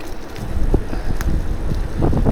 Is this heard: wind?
yes